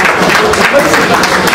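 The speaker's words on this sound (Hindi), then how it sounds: "लीलाप जोरदार तालियां होनी चाहिए।" Loud, dense applause from an audience at an award ceremony honoring young performers, cheering a rope-skipping prize winner; steady clapping fills the whole short stretch.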